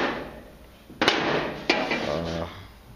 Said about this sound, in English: I would bang with my body hammer